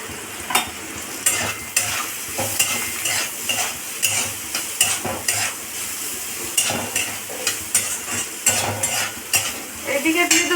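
Nigella seeds and a dried red chili frying in hot oil for masoor dal, with steady sizzling and repeated stirring scrapes and clinks of a utensil against the pan, close and loud throughout.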